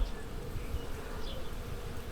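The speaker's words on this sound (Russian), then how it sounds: "Аж гул идет, если слышно, прям з-з-з." Many bees buzz steadily around a large flowering cherry tree in a neighbor's yard, a continuous low drone close by with no talk over it.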